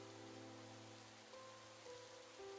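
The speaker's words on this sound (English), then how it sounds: "I hear the rain far off in the distance." Steady, soft rain in a video game, a faint even hiss heard from afar beneath quiet sustained music tones, with no talking.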